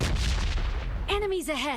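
Red zone artillery bombardment in PUBG Mobile: a loud burst of explosive blasts up front, then a synthetic tonal sweep as the game noise continues, with no talk over it.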